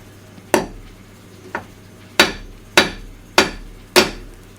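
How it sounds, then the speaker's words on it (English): Six sharp metallic hammer blows on the rear wheel hub of a 2013 Vauxhall Insignia in an uneven rhythm, each ringing briefly before the next. They are loud and close, with no talking. "Got the hammer there?"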